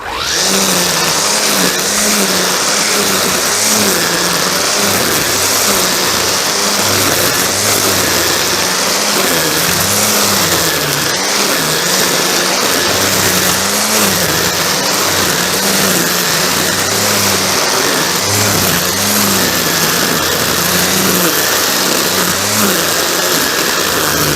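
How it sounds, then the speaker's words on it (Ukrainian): A loud, steady motor whine from an electric grass trimmer (Vitals EZT 144vrs) runs continuously, with slight rhythmic wavering as it cuts through overgrown grass up close. "косарочка просто бере і її хрумкає ням-ням краще, ніж бензинова"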